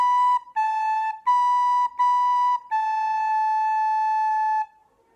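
A recorder plays the closing two bars of a simple tune in a Year 4 lesson: a few clear, breathy held notes with short gaps, the final note sustained longest before fading out, played alone.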